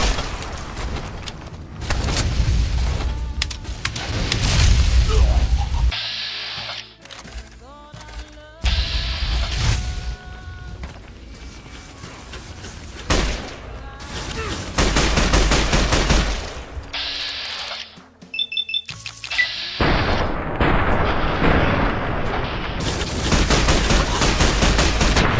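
Gunfire from a gun in modded Fallout New Vegas on PC: repeated loud bursts of rapid shots and booming reports, broken by short quiet gaps and menu-like tones, close and dominant.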